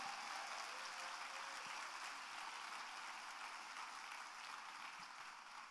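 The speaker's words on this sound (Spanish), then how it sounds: "Ahora dale el mejor aplauso que le hayas dado al Señor." A church congregation applauds in a broad, even wash of clapping that holds steady for several seconds and then slowly fades, with no voices over it.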